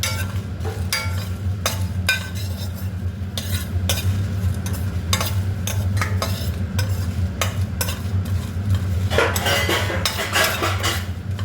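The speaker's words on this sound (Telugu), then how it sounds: "పొట్టమిరపకాయలు బాగా వేగిన తర్వాతనే తీసేయాలి." Green chillies frying in oil, a steady sizzle underneath repeated scraping and clinking of a metal spoon stirring in the pan, close and continuous with no talking.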